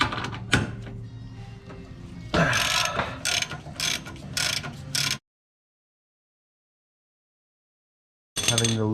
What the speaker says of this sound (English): Having to loosen the cross members so that we can get a big enough gap to fit the nuts